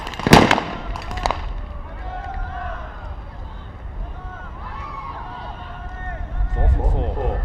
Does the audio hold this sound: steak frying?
no